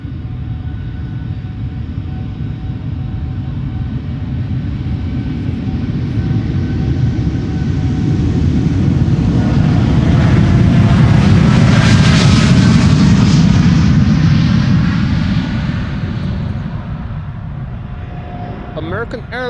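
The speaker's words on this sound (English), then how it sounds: "Now American is also spooling up" An American Airlines Boeing 787-8 Dreamliner at Schiphol, eight years old and bound for Dallas Fort Worth, spools up its engines with a loud, swelling jet roar that builds to a peak and then eases.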